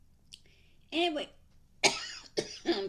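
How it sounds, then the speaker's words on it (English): A person coughing from allergies, a few short sharp coughs in quick succession, close to the microphone in an otherwise quiet room. "Allergies are starting to stir, and I'm starting to cough from it."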